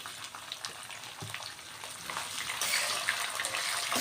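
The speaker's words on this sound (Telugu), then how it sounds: "ఇది కూడా చక్కగా దోరగా మనకి వేగిపోవాలి." A tempering of spices with asafoetida fries in a pan with a continuous hissing sizzle that grows louder midway, plus faint stirring sounds.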